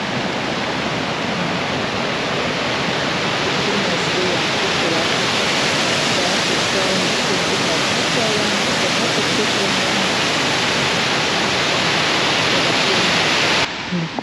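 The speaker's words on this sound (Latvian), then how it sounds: "piebraucām no otras puses ūdens kritumā." An Estonian waterfall pours in a constant, loud broadband rush of falling water, steady and unbroken throughout with no voices heard.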